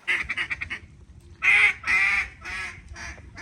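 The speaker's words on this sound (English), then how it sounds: "One more duck." Ducks quack and honk during a duck hunt on Arkansas public land, a sequence of loud, nasal calls in short bursts and longer drawn notes, close and clear with no speech over them.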